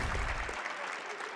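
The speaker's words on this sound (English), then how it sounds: "Please give a round of applause." A crowd applauds for the player ShtanUdashi at a Hearthstone world championship esports event, producing a brief, dense wash of clapping at moderate level.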